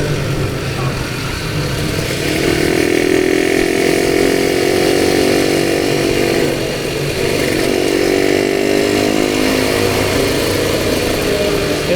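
A Suzuki Satria two-stroke motorcycle rides through city streets in Tasikmalaya, its raspy engine droning loudly and steadily with rising and falling revs, close up and continuous with no talk.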